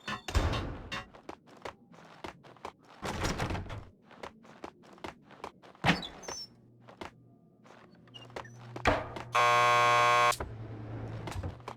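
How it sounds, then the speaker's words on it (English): Door buzzer in the Max Payne 2 video game: one loud, steady electronic buzz of about a second rings out amid footsteps, thumps and game ambience, with a low hum continuing after it. "Just press the buzzer by the door."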